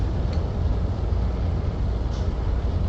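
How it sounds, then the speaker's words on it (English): The Clipper ship's engines in Star Citizen give a steady, low, tractor-like rumble that drones on without a break. "I heard another guy on YouTube describe the noises that the Clipper makes as if it were like an old tractor"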